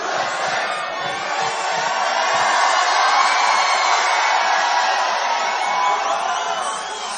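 A huge crowd at a Donald Trump rally in Warren, Michigan roars with sustained cheering and chanting, a dense, loud, continuous wall of voices that swells and holds.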